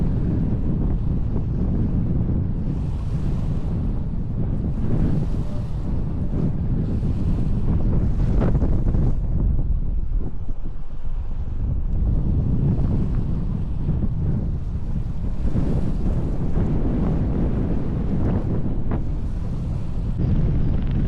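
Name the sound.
strong wind at San Luis Reservoir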